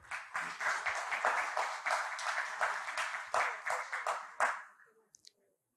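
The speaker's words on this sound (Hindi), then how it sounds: "आपने बहुत जोर से ताली बजानी चाहिए।" An audience at a Mumbai event with Maharashtra's deputy chief minister breaks into loud, sustained applause that rolls steadily for several seconds, then thins out to a few scattered claps.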